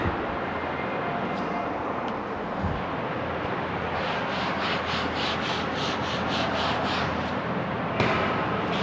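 A duster rubbing out writing on a classroom board during a maths lesson, steady scratchy rubbing strokes repeating close by, with a faster run of brisk swipes toward the end.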